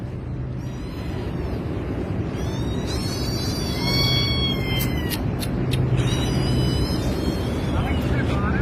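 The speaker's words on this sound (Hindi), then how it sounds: "इधर बिल्ली फंस गया है वो निकालना है" A trapped cat meows repeatedly in high, wavering cries over a steady low background rumble, the calls coming in several bursts through the middle and end.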